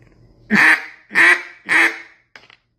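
Three loud, nasal quacks from a cut-down duck call sound in a steady rhythm, close up, ending with a faint click.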